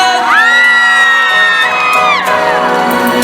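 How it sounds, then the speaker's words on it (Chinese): A concert crowd at a temple festival night screams in sustained, high, overlapping shrieks and whoops, loud and close, fading down after a couple of seconds. "给自己掌声加尖叫声"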